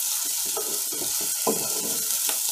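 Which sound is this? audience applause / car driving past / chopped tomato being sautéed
chopped tomato being sautéed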